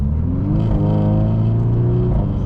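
Cabin drone from a 2017 VW Scirocco R with its resonator deleted, a steady low engine and exhaust hum holding loud and even throughout without talk.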